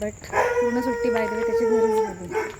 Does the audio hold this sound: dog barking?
yes